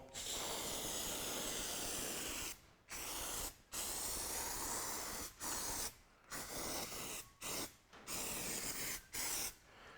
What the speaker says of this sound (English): give the can a shake, and we're going to spray both surfaces